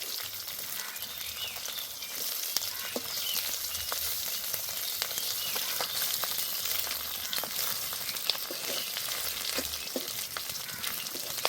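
Small batches of fish frying in a pan of hot oil give a steady, close sizzle with scattered sharp crackles and pops, with no voices.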